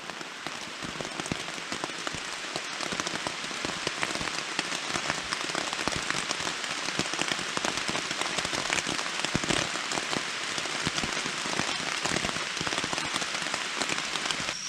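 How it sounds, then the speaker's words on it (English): Continuous rain pattering on a tent at a campsite in South Carolina, a dense steady patter of drops that stays even in loudness without pause. "I'm just gonna chill out in my tent for a bit until the rain stops"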